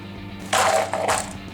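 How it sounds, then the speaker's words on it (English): A Hot Wheels Monster Jam toy monster truck crashes through a plastic trailer on a playset, making a sharp clattering smash followed by a second shorter rattle, close and fairly loud. "Zombie crashed through the trailer and did not make it."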